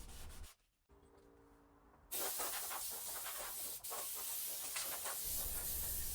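150-grit sandpaper rubs a round-over edge on a wooden marquee party number. After a brief quiet pause, close rasping strokes continue steadily.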